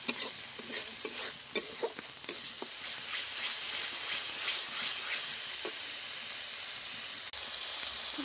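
Ground dried chilli and chilli powder masala for a country-style crab curry being stirred and sautéed in a pan on a wood stove, with a soft close sizzle and repeated scraping stirs over about eight seconds.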